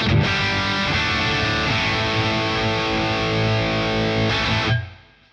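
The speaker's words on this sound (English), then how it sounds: "getting these really nice sort of crunchy guitar tones with it as well" An electric guitar played through a crunchy distorted patch on a Boss Katana amp, sustained chords ringing loud and thick for several seconds before stopping sharply.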